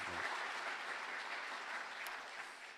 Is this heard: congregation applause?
yes